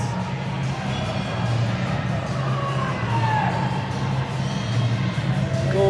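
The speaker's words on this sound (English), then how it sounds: "The cheers from the crowd back and forth here." Ice hockey crowd at a Knights versus Warriors game, a dense arena roar of cheering and chanting that holds steady and fairly loud throughout, with voices blurred into the mass.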